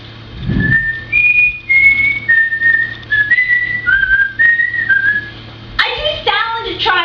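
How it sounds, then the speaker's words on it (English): Person whistling a short tune, a clear string of sustained notes that step up and down in pitch one after another and stay close and distinct, followed by a voice at the end. "Walter whistles."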